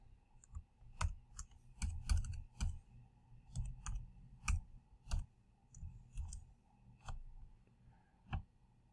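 Password being typed on a computer keyboard, with irregular bursts of sharp key clicks close by and short pauses between strokes, alone and with no talking.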